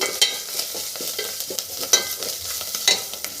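Chopped onion frying in hot oil for a fish curry, a close sizzle with repeated scraping strokes of a spoon and small clicks, no voices.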